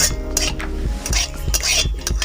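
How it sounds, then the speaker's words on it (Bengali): Paneer being stirred with fried onion in a pan, a spoon clinking and scraping against the metal in quick irregular strokes, close and fairly loud with no speech. "পনিরটা ভালো করে নাড়াচাড়া করে দেব।"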